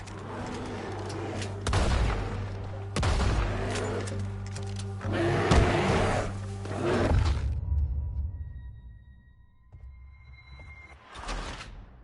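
Gunfire in Red Dead Redemption 2 comes as several heavy, booming bursts of shots in the first eight seconds, loud and close with rumbling tails. It then fades to quieter ambience with one last blast near the end.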